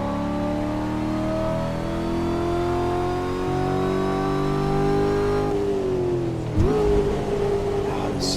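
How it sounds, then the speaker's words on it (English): Car engine in a driving game, revving steadily with a rising harmonic whine, then dropping sharply at a gear change before climbing again, loud and continuous. "Sound of this car, man."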